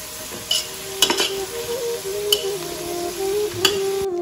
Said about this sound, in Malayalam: ഇതൊന്ന് തുറന്ന് നോക്കിയിട്ട് ഒന്ന് ഇളക്കി കൊടുക്കാം.